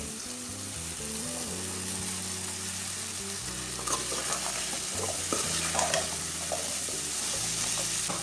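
Okra sizzles steadily as it fries in a pan, a continuous hiss with a few stirring knocks and scrapes partway through, close and moderately loud, no voices.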